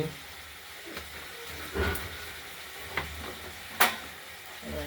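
Paneer curry masala with potato and tomato sizzles and is stirred in a pan, a steady low fry with a few louder scraping stir strokes, close by and without talk.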